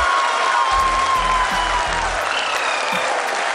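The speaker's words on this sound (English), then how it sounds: "People are applauding." Applause fills the room at the Chandrayaan-3 lunar landing as a crowd claps steadily and densely for several seconds, with a low murmur of voices underneath.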